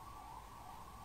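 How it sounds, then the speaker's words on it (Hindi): An ambulance siren wails outside a room, a sustained wavering tone heard faintly through walls over a low background rumble. "एम्बुलेंस आ गई बाहर।"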